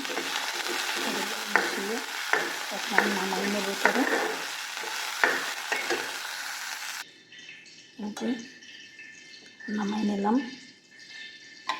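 Tomatoes frying and being stirred in hot oil that already holds onion, garlic and chili, giving a steady close sizzle with scraping spoon strokes. A voice talks over the cooking partway through.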